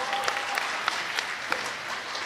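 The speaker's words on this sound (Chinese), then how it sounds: "朋友们，掌声得送给人家。" Audience applause at a Deyunshe crosstalk show's opening night in Tianjin, a steady dense clapping from a full house with a few sharper claps standing out, heard alone.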